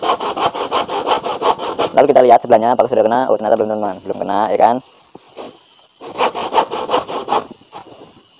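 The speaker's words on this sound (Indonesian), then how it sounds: "jadi kita gergaji sekarang ya" A hand saw rasps steadily through wood being shaped for a Barong mask, its rapid back-and-forth strokes loud and close, pausing once while someone talks, then sawing resumes.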